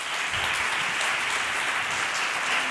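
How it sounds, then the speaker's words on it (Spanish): An audience claps for Conchi Lillo at a university research-presentation final, a continuous, full round of applause at steady loudness from start to finish. "un aplauso a Conchi Lillo"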